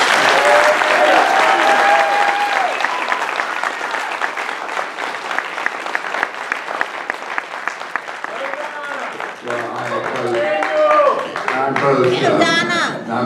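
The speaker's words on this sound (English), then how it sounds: "Round of applause, folks." Audience at a mayoral candidate forum in Jacksonville breaks into sustained applause that fills the room, loud and even, with voices and some other sound rising near the end.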